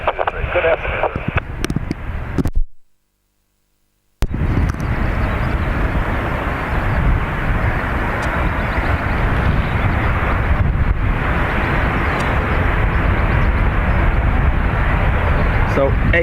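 American Airlines jet bound for Philadelphia taking off from runway 28 right at Dublin Airport, a steady, loud broadband roar with wind buffeting, a brief dropout near the start and muffled voices in places.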